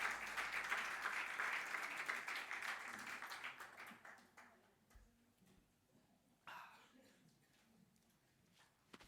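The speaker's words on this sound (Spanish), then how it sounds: "Dale un muy lindo aplauso al Señor." Applause from a church congregation, loud at first and fading over several seconds, with scattered voices and a few dog barks later on.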